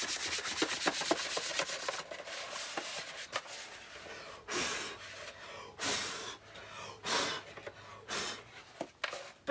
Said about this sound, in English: I'm just gonna grind a little bit of rust off of this